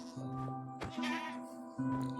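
A quavering Minecraft goat bleat rises clearly over a constant low drone, a single shaky cry close at hand.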